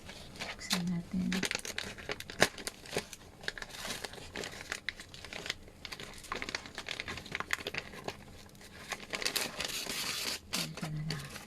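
A package is opened by hand, its plastic crinkling, rustling and tearing in quick close bursts, with soft voices talking now and then.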